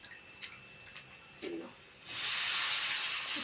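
Salted bitter gourd pieces drop into hot oil with a sudden loud sizzle that swells into a steady, sustained hiss, after a few small clinks and taps.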